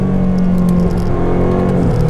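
A BMW M5 CS accelerates to overtake, its engine a loud, steady drone with a low hum and a light rattle running continuously underneath, heard close with no talking.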